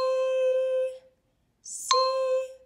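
Two struck tone bells ring out one after another, each a clear pitched ding with a bright attack and a long sustained decay, separated by a brief silence; close and fairly loud, with no talking.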